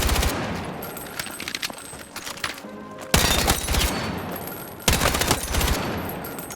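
Close, loud automatic gunfire from a KORD 6P67 rifle in Battlefield 6 hits metal plates, coming in three rapid bursts separated by short pauses, with no talking.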